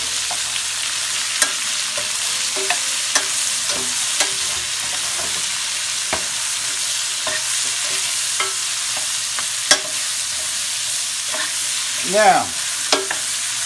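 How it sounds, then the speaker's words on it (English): Mixed red and white onions sauteing in a pan with no salt or pepper, a steady close sizzle with periodic stirring taps; a brief word is spoken. "And saute your onions."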